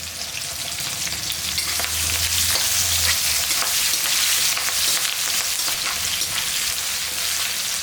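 Small whole onions and curry leaves fry in hot oil already used for frying eggplant, a loud, steady sizzle with occasional stirring, close up and with no voices.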